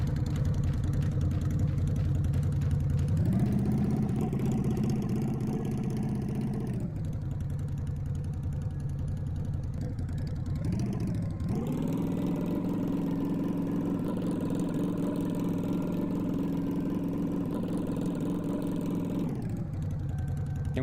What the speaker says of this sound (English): the engine sounds. They're from a free asset pack with sounds.